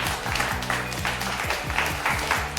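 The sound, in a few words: audience applause at golf tournament prize presentation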